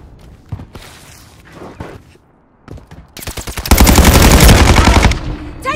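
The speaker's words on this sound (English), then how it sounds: "Taking effective fire!" Automatic gunfire in Call of Duty Modern Warfare 3 on PlayStation 5: scattered single shots at first, then a loud, dense sustained burst of rapid fire near the end, with no talking.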